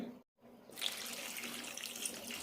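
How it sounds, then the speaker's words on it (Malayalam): Water poured into a pot of soaked soya chunks: a steady, close rushing splash that starts after a short silence and runs evenly to the end. "ഇതിലേക്ക് വെള്ളം ഒഴിക്കാം"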